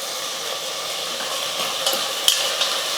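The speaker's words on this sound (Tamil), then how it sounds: "தக்காளி வெங்காயம்லாம் நல்லா வதங்கட்டும்" Chopped tomatoes and onions sauté in a pan for a home-cooked rice dish, a steady close sizzle with a few soft scrapes and stirring clicks near the end, no voices.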